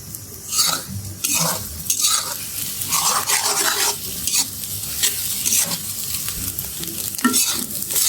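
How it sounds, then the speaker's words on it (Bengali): An egg fries in a pan with a steady close sizzle, broken by repeated spatula scrapes and stirring strokes, loud and continuous with no talking. "ডিমটা কিছুক্ষণ রেখে রেখে ভাজবো তাহলে ডিমটা সুন্দর হবে"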